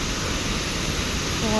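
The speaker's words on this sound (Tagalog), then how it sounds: "The falls." Waterfall at Lake Sebu pouring with strong pressure, a steady broad rushing roar heard up close, with a voice faintly under it.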